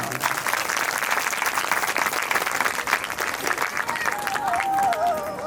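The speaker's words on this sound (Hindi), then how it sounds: "एक बार और ताली बजाओ।" Sustained audience applause at a Bhagwat Katha religious gathering, many hands clapping in a thick steady roar, with a faint tonal sound rising near the end.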